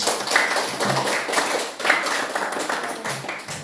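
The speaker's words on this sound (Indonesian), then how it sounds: "kita beri tepuk tangan dulu" A classroom applauds the student presenters of two groups, with scattered, fairly soft claps that come in loose bursts throughout and no one speaking.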